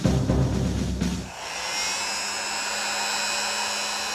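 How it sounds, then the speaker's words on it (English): A brief clatter gives way to the steady, high whirring blow of a hair dryer running continuously and fairly close. "Anybody got a hairdryer?"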